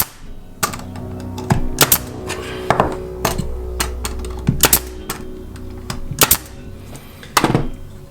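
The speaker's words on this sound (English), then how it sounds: "you've got to have a staple gun and a compressor" A pneumatic staple gun run from a compressor drives staples into a wooden beehive frame, giving a dozen or so sharp, loud bangs at uneven intervals over a low background hum.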